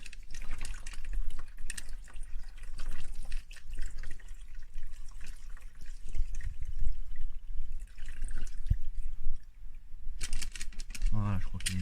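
Engine oil draining from a Citroën C4 1.6 HDi during an oil change, a steady close trickle and splash of liquid into a container, with occasional metallic taps and someone speaking.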